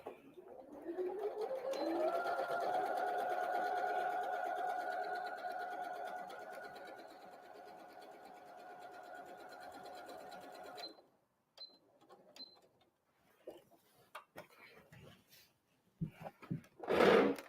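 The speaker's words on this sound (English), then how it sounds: "So I'll go ahead and sew this one" A sewing machine stitches the seam of a Christmas tree napkin, running as a steady whirring hum for about ten seconds before stopping, followed by a few light clicks and handling sounds.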